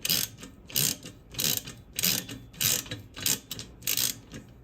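A ratchet wrench clicks in quick repeated bursts, close and fairly quiet, as bolts are tightened on the steering column of a 1974 Ford F350 during a rebuild.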